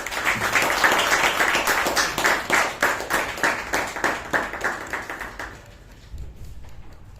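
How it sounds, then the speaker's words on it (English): A crowd at a Toastmasters club meeting claps steadily in a dense burst of applause that gradually thins out and fades, with the last few claps trailing off near the end. "our President, Toastmaster Ujwal, with a huge round of applause."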